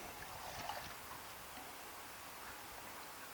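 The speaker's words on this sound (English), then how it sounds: "I put plenty of water in it." Water is poured into a water bottle, giving a steady, faint trickling and splashing rush that carries on throughout with no voices.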